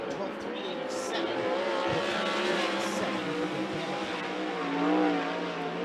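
A 360 sprint car running a hot lap at Skagit Speedway, its engine a high, wavering whine with rising and falling pitch, heard from a distance with some tire and track noise.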